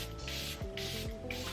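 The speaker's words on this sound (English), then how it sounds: "we're going to set it in place with the Charlotte Tilbury Airbrush Flawless Setting Spray" Charlotte Tilbury Airbrush Flawless Setting Spray misted onto a face during makeup, two or three short airy pump bursts with brief pauses between them, close and fairly quiet.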